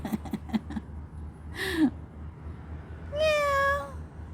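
Cats on a street in Lebanon meow a few times, one short low call and then a longer drawn-out meow, with faint human sounds and light clatter at the start.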